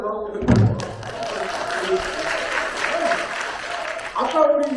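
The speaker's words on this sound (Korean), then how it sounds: "박수도 나오고" Audience applause breaks out at a creative pansori performance about Jang Bogo, a fairly loud, brief burst of clapping mixed with voices that fades into a steady crowd murmur before swelling again near the end.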